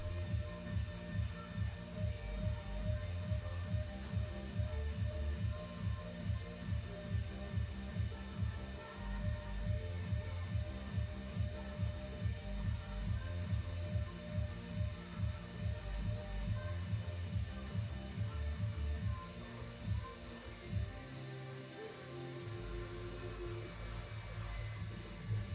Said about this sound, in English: the motor will continue to operate until the limit switch is pressed